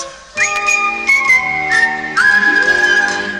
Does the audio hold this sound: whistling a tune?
yes